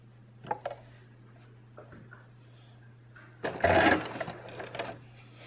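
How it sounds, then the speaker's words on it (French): A sewing machine runs a stay stitch through a single layer of fabric in a short, fast burst of needle clatter, set among a few quiet ticks and handling clicks over a low, steady motor hum. "Faites attention de ne pas détendre le tissu en cousant votre couture de soutien."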